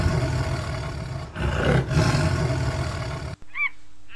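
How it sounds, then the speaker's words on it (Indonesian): A toy Sumatran tiger plays a loud, sustained electronic roar with a brief dip in the middle. It cuts off abruptly and is followed by a few short chirps. "Harimau Sumatera, teman-teman."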